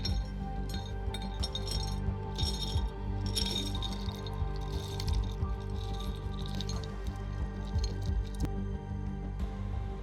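Bionic Brain Booster nut mix of walnuts, almonds and cashews poured out, giving a continuous run of close, hard clinks and rattles against glass, with no voices.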